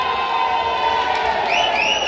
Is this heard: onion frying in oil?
no